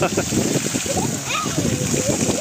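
Water splashes and gushes steadily from a 2-inch 900W BLDC solar-powered pump outdoors, a close, continuous splattering with voices talking over it.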